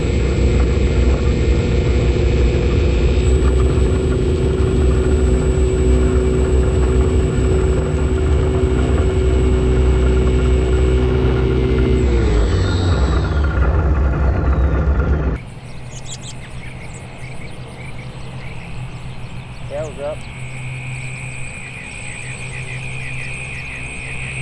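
A homemade DIY model airplane's engine drones loud and steady in flight, a buzzing motor tone that holds and then shifts in pitch as the aircraft moves, with the sound changing abruptly partway through.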